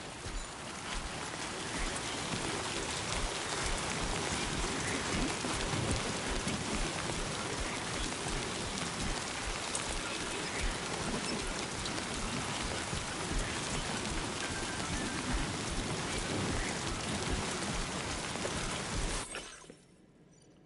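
Heavy timefall rain pours steadily in Death Stranding 2, a dense, loud broadband hiss of rainfall spanning the whole stretch before cutting off abruptly near the end.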